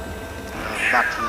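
A wild cat gives a brief, rising call of distress toward its cub during a sunrise safari at Tswalu; the single strained cry comes at moderate distance after a few spoken words.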